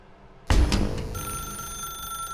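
A telephone rings inside The Stanley Parable video game, beginning with a loud abrupt onset and then leaving sustained tonal ringing partials alone, with no talking.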